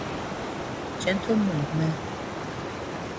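A soft, steady wash of ocean waves runs as continuous broadband background noise, with a calm voice speaking over it throughout.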